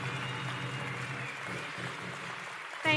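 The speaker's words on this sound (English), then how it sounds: "One more round of applause for our amazing performers." Audience applause for performers at a closing ceremony, a steady wash of clapping that holds, then thins toward the end before a voice cuts in.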